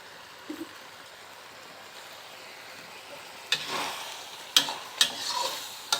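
Spicy eel stir-fried with red and green chilies, green peppercorns and sliced fingerroot in a pan, a soft steady sizzle that swells as several sharp scraping stirs strike near the end.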